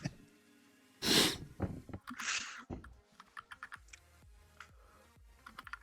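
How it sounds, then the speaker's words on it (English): Typing on a Cherry MX mechanical keyboard, with a quick run of sharp key clicks near the end, preceded by a loud breathy snort and rustling noises close to the microphone. "We know Nathan's on chat when I can hear his Cherry MX keys."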